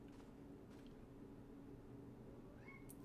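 A cat meows in the video game Final Fantasy XIV, a faint rising call heard near the end over a steady low game soundscape.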